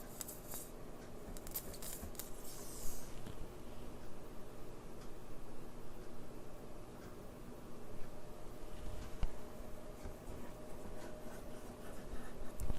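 Pen nib scratching steadily across paper while inking the flap of a drawing in a sketchbook, a quiet close continuous scribbling with faint rustles, no talking.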